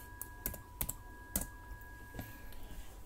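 Typing on a computer keyboard at a PC running Windows 10 that is connected to a 300-baud modem, heard as a handful of sharp, separated keystroke clicks over a steady low hum, close by and with no voices.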